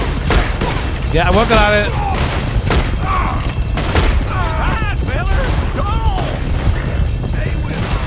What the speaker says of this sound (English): Am I the only one shooting dynamites?